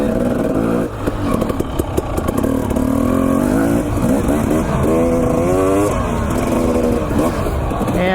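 A dirt bike fitted with a Rekluse auto-clutch revs close by, the engine rising and falling in pitch through repeated throttle roll-ons, loud and continuous throughout.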